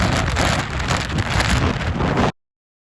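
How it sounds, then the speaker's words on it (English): Strong wind on the exposed Skyline Trail in Jasper, a loud, rough roar buffeting the microphone without a break before cutting off abruptly. "Wind's blowing so hard, I crouched down really low."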